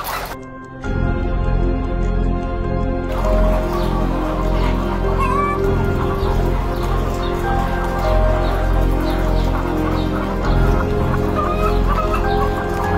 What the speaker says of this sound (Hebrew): תראו את התרנגולות, כלואות, במצב ממש לא טוב